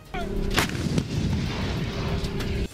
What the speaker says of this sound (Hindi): इस फायर ड्रिल में दोनों देशों के सैनिकों ने चीन को अपनी ताकत दिखाई और उनकी तोपों की आवाज से पूरा इलाका गूंज उठा